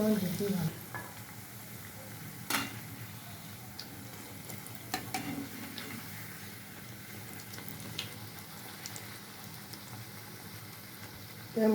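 Savoury khaja pastries frying in hot oil, a steady soft sizzle and bubbling running throughout with a few faint clinks and taps.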